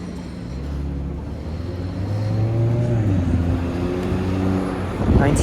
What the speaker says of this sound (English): Bay Street bus.